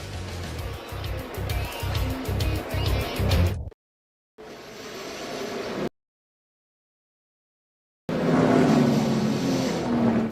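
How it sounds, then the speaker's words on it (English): NASCAR stock cars roar around Texas Motor Speedway during the 2022 Andy's Frozen Custard 300, a loud, pulsing engine drone that cuts out into silence twice before the racing sound returns at full strength. "And you see Noah Gragson and the speed he has compared to the cars he's going by."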